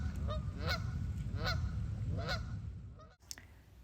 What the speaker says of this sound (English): Give the geese some space.